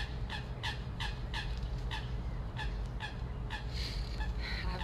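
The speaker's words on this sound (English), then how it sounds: "I have ducks here next to me, or a version of ducks that have their nest" Ducks call near their nest outdoors, a run of repeated honking, gobbling squawks coming in quick bursts over a steady low background rumble, moderately close.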